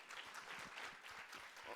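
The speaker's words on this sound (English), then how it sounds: "Give that a round of applause." A crowd claps at a World Food Day panel on food as medicine and eating for health. The applause is continuous and moderately distant, with faint voices mixed into it.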